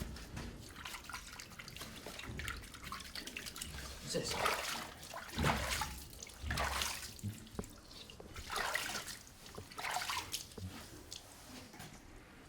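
Water splashes and pours over a hippo calf during its bath, coming in intermittent bursts and pours over a steady wet background, with people talking throughout.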